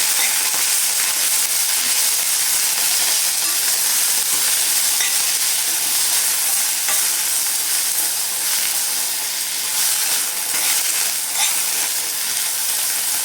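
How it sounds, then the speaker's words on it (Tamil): Coriander leaves are being sautéed in a pan, giving a loud, continuous sizzle with steady stirring scrapes throughout and no speech. "கொஞ்சம் இப்படி வதக்கி விட்டுட்டு பாருங்கள், கொத்தமல்லி தழை"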